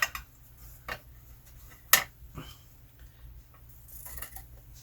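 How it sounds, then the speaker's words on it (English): Scissors trim around fabric in a circle, making a few faint, irregular snips and light clicks spaced over a few seconds against a quiet background. "And then you can just take some scissors"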